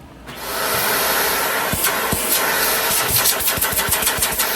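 A Dyson vacuum cleaner with a suction fault is switched on and tested at the wand. The motor starts with a quick rise and then whirs loudly and steadily, with a few light clicks and knocks.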